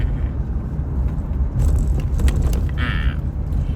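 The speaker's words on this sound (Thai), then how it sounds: "เดี๋ยวพาขับรถเลาะนะคะ" A car driving along a town road in Nong Hin, Loei, Thailand, a steady close engine and tyre rumble with occasional rattles and a brief higher whine partway through.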